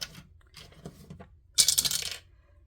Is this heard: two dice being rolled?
yes